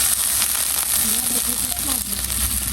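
Hot water goes into a pan of sizzling curry gravy, giving a loud, steady hiss and crackle of frying close by, with a voice faintly audible beneath it.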